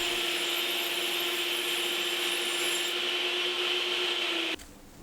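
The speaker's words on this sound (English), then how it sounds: "So I cut another 1/4 inch piece of plywood down to about the size of that gap." Power saw cutting a 1/4 inch plywood piece for a bandsaw circle-cutting jig, a steady loud whine with even tone throughout, stopping abruptly near the end.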